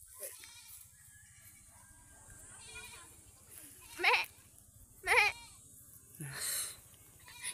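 Goats bleating outdoors on a mountainside farm, with two sharp close bleats and then a longer, lower one against quiet background murmur.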